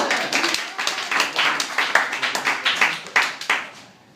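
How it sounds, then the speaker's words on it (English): Applause from a small comedy club audience, uneven individual claps in a quick irregular rhythm, close and fairly loud, thinning toward the end. "Let's get a round of applause for him."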